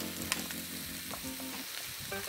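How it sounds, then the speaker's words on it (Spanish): Chicken pieces browning in a hot pan, sizzling and crackling steadily and close up, with a few light stirring clatters and no talk over it. "mientras este pollo va poco a poco dorándose"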